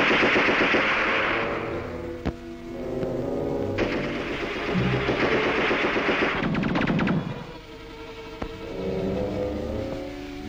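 Battle scene from a Chinese war film about PLA light cavalry fighting bandits in the northwest, with rapid machine gun bursts and rifle shots rattling over a continuous loud mix of engine-like roar and clatter.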